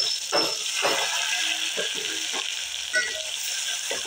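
Ground spice paste for a Satari ghevda dal amti fries in a pan with a steady sizzle, broken by repeated scraping stirs of a spoon at a quick, uneven rhythm, close-up.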